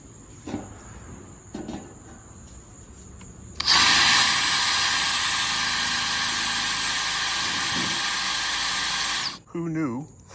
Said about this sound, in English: Who knew aluminum would be so hard to drill through?